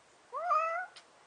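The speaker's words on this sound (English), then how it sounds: "Talking cat." A single clear meow from a cat rises and falls over about half a second, close and moderately loud against a quiet background.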